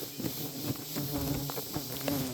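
Tubuna stingless bees buzz steadily during a hive transfer into a box, a dense, continuous insect drone with close individual wingbeats rising and falling, and no talk.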